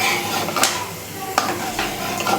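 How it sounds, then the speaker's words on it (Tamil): Garlic cloves and dried red chillies frying in oil in a pan, with a steady close sizzle and several sharp scrapes and clinks as a spoon stirs against the metal, alone with no talking. "இந்த பூண்டும் இந்த காஞ்ச மிளகாவையும் நல்லா வறுத்துக்கோங்க"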